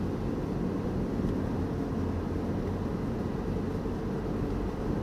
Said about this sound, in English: even the engine makes some noise. Strange noise.